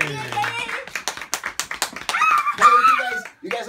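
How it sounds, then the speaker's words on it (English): Children at a birthday magic show clap and applaud in a quick burst of scattered hand claps, with excited voices and cheering mixed in close by. "for you guys to clap your hands and applaud."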